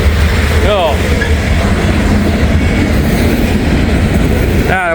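A freight train with a grain hopper car rolls past trackside, a loud close steady rumble with clattering wheels and brief squeals, as someone talks over it.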